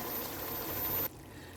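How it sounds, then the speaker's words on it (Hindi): Water runs steadily into a pot of browned Hyderabadi chicken as a continuous rushing splash, fairly quiet, then cuts off abruptly near the end, leaving low room noise and no talk. "अब इसमें पानी डाल के इसको गलने के लिए रखेंगे।"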